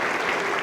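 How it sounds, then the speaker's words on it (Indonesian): Church congregation claps in a brief, dense burst of applause, steady and loud. "Sekarang kita beri tepuk tangan yang paling meriah."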